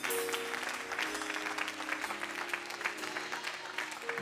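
A church congregation applauds and cheers together, a steady dense wash of clapping that runs throughout with some voices mixed in, loud and close.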